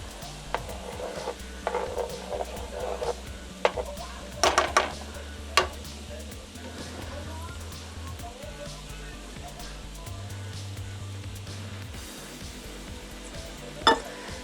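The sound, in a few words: butter melting and sizzling in pan for roux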